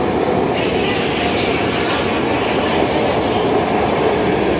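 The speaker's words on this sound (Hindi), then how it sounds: "तो गाइस, हम आ गए मेट्रो स्टेशन और यहाँ से जाएंगे मेट्रो से।" A Delhi metro train at a station gives a loud, steady rumble of rail noise and wheel clatter throughout, close by and continuous, with no clear talk over it.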